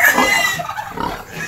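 A mother sow grunts and snorts close by in a pig pen among her piglets, a continuous rough, low grunting that stays loud throughout.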